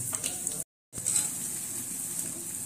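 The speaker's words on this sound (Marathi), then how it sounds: "आता ते गोल्डन होतपर्यंत आपण फ्राय करूया।" Dahi vada lentil fritters frying in hot oil until golden, giving a close, continuous bubbling sizzle broken by a brief silent gap.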